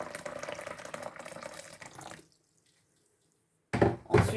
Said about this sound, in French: Une bonne quantité d'eau chaude.